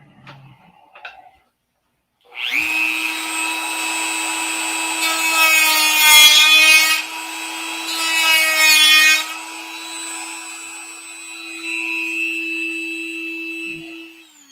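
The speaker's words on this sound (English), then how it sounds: "So, let's get the Dremel out." Dremel rotary tool cutting into a small model airplane: a high, whining buzz after a brief pause, rising into louder grinding bursts as it bites the material, then easing, close and alone.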